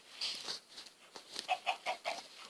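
Chicken in a video game giving a series of short, clipped clucks, about half a dozen quick bursts in an uneven rhythm, fairly close and quiet with little else around.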